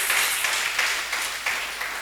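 A church congregation claps together in steady, dense applause that fills the room, loud and continuous without talk.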